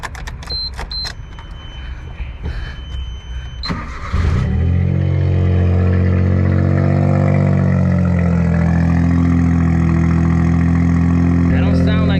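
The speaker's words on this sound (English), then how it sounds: "let me give it a nice start right now so you guys can hear this thing." A Suzuki Cappuccino kei car parked outdoors cranks and catches, then settles into a steady, loud, droning idle close by, with clicks and rustling before the start and no talk over the running engine.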